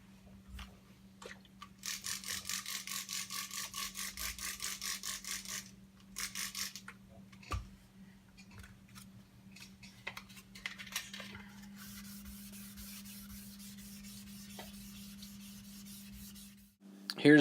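Hand sanding flattens the finish on the back of a budget Strat-style guitar body, with bursts of rhythmic back-and-forth rasping strokes broken by pauses and a few knocks, then a longer, softer stretch of rubbing close by.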